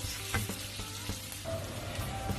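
Softened onions fry in a pan with a low, steady sizzle, while a utensil stirs them in light taps and scrapes, fairly faint, with no talking.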